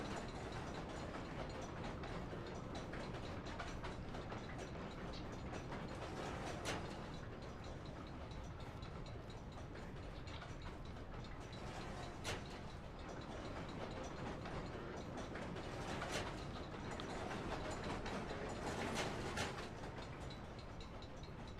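Rotor machinery in the Amnesia: The Dark Descent video game grinds and ratchets steadily, a dense mechanical clatter with periodic louder clanks, running on without pause and fairly faint throughout.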